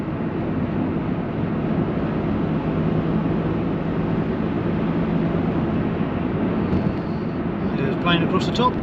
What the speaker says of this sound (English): Plane across the top.